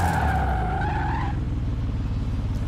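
Turbocharged car in the Forza Horizon 4 racing game, a loud engine drone with a whooshing hiss and fluttering blow-off release in the first second before settling into a steady rumble.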